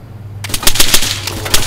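Machine gun fire in the video game ArmA, a rapid burst of sharp, loud, evenly spaced shots starting abruptly after a quiet moment and continuing to the end.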